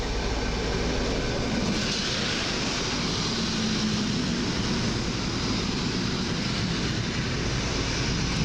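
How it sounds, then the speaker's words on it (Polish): A passenger train from Warszawa Główna rumbles steadily nearby as it approaches a platform at Warszawa Zachodnia, with a constant broad roar and faint squealing, its noise filling the space without letting up. "Zbliża się pociąg osobowy do łodzi fabrycznej."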